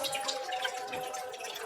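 Hot water poured into a pot while making yogurt, a brief steady trickling splash heard close and alone.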